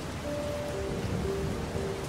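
Rain falls steadily in the Heavy Rain video game, a soft, even hiss of drops on surfaces, moderately loud and unbroken, with faint tonal hums behind it and no voices.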